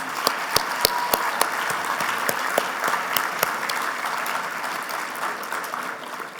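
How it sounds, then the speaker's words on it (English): Applause at an entrepreneur hall of fame ceremony for the year's honorees, opening with a few sharp, close claps before settling into a sustained, fairly loud round from the crowd that gradually thins. "Would you join me in one more round of applause for this year's honorees?"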